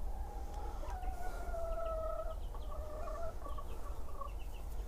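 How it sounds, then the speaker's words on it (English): Backyard homestead chickens clucking and calling in drawn-out tones, moderately close over steady low background rumble, with no talk. "Funny old things, chickens, they don't really like change."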